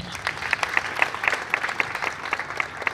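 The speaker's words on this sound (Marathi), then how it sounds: "तर त्यांचं सगळ्यांनी आपण टाळ्या वाजून स्वागत करावं" Audience clapping at a memorial rally in Mumbai, welcoming people just released on bail; a sparse scattering of hand claps comes in irregular bursts through a murmuring hall, moderately loud.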